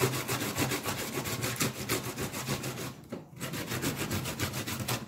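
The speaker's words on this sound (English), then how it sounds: "So I've washed it before and now I'm just grating." A washed Irish potato being grated by hand, heard as close, steady rhythmic rasping strokes about three per second, each a scratchy swish, with one brief pause partway through.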